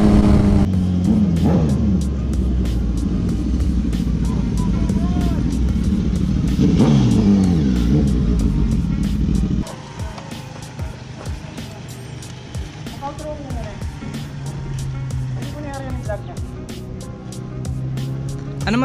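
Loud engines rev and roar close by as a Suzuki GSX-S1000 and a Kawasaki Z1000R accelerate hard in a drag race, pitch climbing in waves, with voices talking over the noise.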